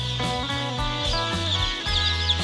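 Baby chicks clucking and cheeping busily as they play in a brooder pen, a dense, continuous chorus of overlapping calls close by with no pauses.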